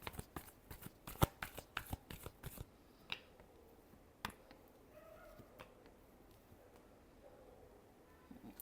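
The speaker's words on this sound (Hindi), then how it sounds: "Last shuffle." Tarot cards are shuffled in a quick series of crisp riffling flicks and slaps at close range, followed by a few softer card taps and quiet handling.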